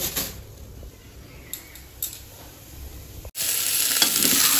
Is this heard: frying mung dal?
yes